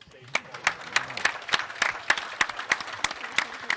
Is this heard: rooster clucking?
no